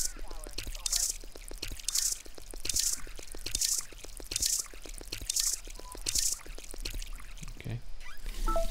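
Watering plants in Drug Dealer Simulator: a rhythmic sequence of wet pouring and splashing bursts repeats roughly every second, close and steady.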